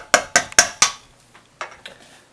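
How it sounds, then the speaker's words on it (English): A whisk is lifted out of a bowl of churro muffin batter, with four quick, sharp clinks against the bowl followed by a few fainter taps, close and without speech. "let me just take this whisk out"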